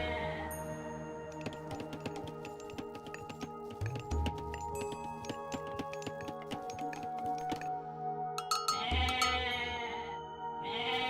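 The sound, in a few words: goat bleating in Age of Mythology video game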